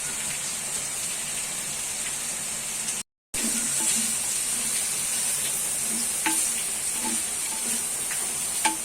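Onions sizzle steadily in a hot pan while being sautéed with salt for chicken dum biryani, a dense crackling hiss that drops out briefly and resumes, with a few soft stirring taps near the end.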